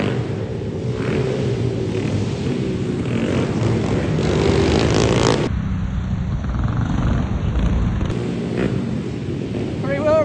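Several pit bike three-wheelers race in a close battle, their small engines revving and droning loudly and continuously, with wind buffeting the microphone throughout.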